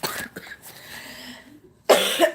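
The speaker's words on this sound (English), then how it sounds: "The urge to cough never goes away." A person coughs a few times at close range, with a short pause, then a harder, raspy cough.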